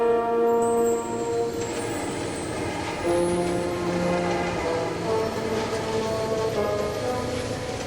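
A passenger train on a mountain railway near Mount Shasta, pushed by two diesel helper locomotives as it starts down a steep grade, rumbles steadily with sustained engine drone and long tonal notes throughout.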